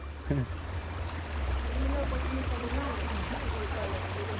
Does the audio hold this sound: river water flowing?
yes